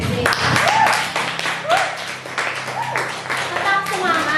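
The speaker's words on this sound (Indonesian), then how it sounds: "Tepuk tangan dulu untuk kita semua." A class of children claps together in a classroom, the rapid clapping mixed with children's voices and chatter throughout.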